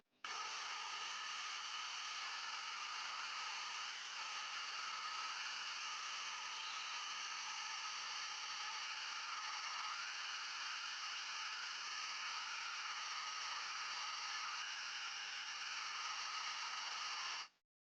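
A food processor whirs steadily while blending fish paste for Teochew fish cakes, a loud, even motor drone that runs unbroken for the whole stretch and then cuts off abruptly, with no talking.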